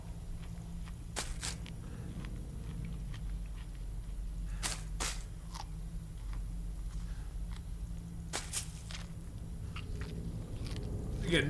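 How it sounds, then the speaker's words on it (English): Game character in The Long Dark chewing cattails, a string of crisp, close biting and crunching bursts spaced a few seconds apart over a steady low background hum. "He's got different chewing noises."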